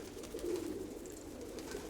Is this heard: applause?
no